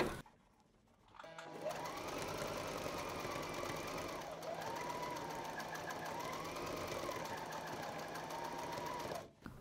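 A Brother GS2700 sewing machine doing free motion embroidery runs continuously and close, a steady mechanical whir with slight rising and falling in pitch, starting after a brief quiet moment and stopping abruptly at the end.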